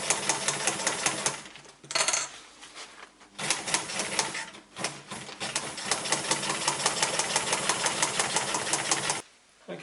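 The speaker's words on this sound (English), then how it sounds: "we'll just sew along here for the first seam" A sewing machine stitches a seam in silnylon fabric for a lightweight bug net tent inner, running in rapid mechanical bursts with short pauses, close and loud, then stopping.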